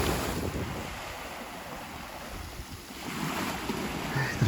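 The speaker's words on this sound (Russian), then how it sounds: "Шум моря, как я по тебе скучал." Sea surf rolling onto the shore at Cape Alchak near Sudak in Crimea, a steady broad wash of waves with gusty wind buffeting the microphone throughout.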